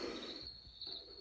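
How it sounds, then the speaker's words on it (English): Cricket chirping played through a Bluetooth white noise sleep-aid speaker: a soft, high, continuous trilling with faint low rustling beneath, quiet and steady. "A little bit of crickets."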